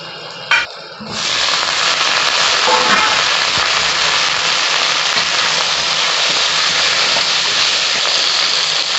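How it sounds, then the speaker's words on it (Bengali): Tomatoes tipped into a pan of fried onions and whole spices for a jackfruit curry: a short clatter as they go in, then a dense, loud, continuous sizzle and spatter close by that holds steady to the end. "এবার আমি টমেটোগুলো দিয়ে দিচ্ছি।"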